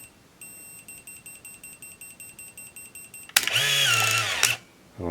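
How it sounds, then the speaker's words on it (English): A Canon AF35 ML 35mm film camera runs its self-timer, giving a rapid series of regular high electronic beeps, close and clear, that end in a brief louder whir of the shutter and film advance. "I'm just going to set this out here and start the timer. There, it's beeping."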